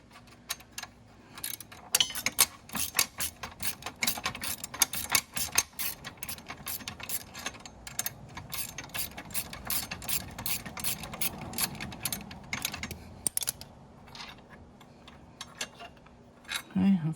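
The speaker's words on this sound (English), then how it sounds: "get my box wrench, I should say, not open end wrench" A box wrench works a bolt while a center stand is fitted to a Dax125 motorcycle, making quick bursts of dense metallic clicking, close and fairly faint, with pauses between strokes.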